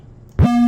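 A single deep 808 bass note hits with a punchy attack, then holds as a low, steady hum.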